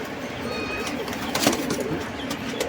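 Malwai pigeon cooing in a pigeon loft, soft low coos close by over a steady background hum, with faint chirps mixed in.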